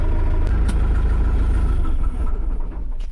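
A Scout TE 504 S mini tractor engine runs with a steady, loud low-pitched rumble, close by and continuous, easing slightly toward the end.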